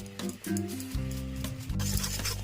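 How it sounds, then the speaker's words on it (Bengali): Spice paste sizzling in a pan with roasted cumin and Kashmiri chili powder, close and loud, with clinking stirring sounds and a low hum underneath. "মশলাটা এদিকে কষা হচ্ছে"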